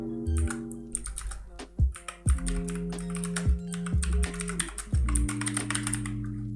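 Code being typed on a computer keyboard: close, quick clicking keystrokes in irregular bursts with heavier thumps of the space or enter key, alone without talk.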